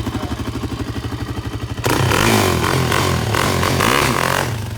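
A new ATV's engine revs hard after shifting into first gear, starting as a steady putter and then jumping to a loud, sustained roar with clattering.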